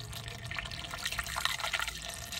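Liquid poured through a long funnel into a car transmission, a close, trickling and dripping flow with small splashy bursts, steady over a couple of seconds and no talking.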